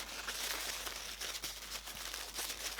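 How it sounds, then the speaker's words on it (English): Crepe paper rolled around a small surprise ball for a DIY advent calendar, giving a steady close crinkling and rustling with soft tearing-like bursts throughout, no talk. "You're gonna get your crepe paper and you're just gonna roll it around."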